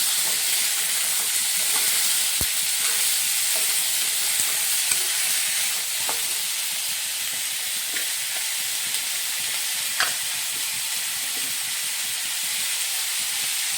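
Steady sizzling of potatoes frying in a pan, a soft continuous hiss with occasional small pops and clicks, no talking.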